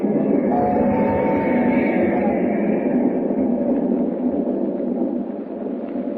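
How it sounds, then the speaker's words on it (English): A train roars along through the night, a steady, dense rumble that fills the whole stretch and fades slightly toward the end. "As the train roars into the night"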